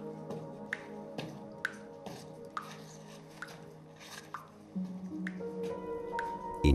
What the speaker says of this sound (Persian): آبدانه هایی که از سقف می چکند کف غار را لیز و گلالود کردند.